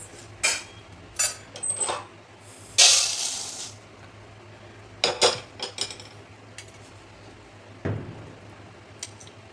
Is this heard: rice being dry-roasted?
yes